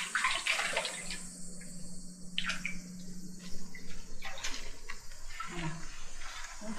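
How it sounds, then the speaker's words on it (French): Water runs and splashes from a fountain in a Japanese village as someone fills a container, a continuous close trickle with brief clatters and shifting splashes. "Je vais prendre un peu d'eau."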